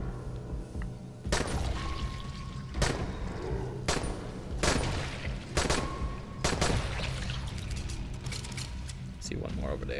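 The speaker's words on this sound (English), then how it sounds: "I'm gonna use my pistol for this area." Pistol shots in the zombie game Dying Light, roughly six sharp cracks spaced about a second apart, with mechanical clicks and a low background hum between them.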